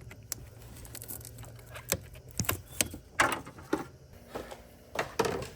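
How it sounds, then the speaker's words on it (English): Sharp clicks and small snaps of a zip tie being cut during belt replacement on the 5.3L or 6.2L V8 of a 2021+ Yukon, Tahoe, Suburban or Escalade, several close, brief transients amid light handling noise, no talking. "So I'm gonna snip that zip tie and I'll just fix it later."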